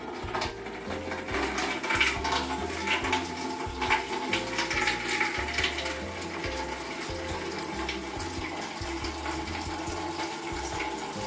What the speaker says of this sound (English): it's going to suck the water that's in the sink out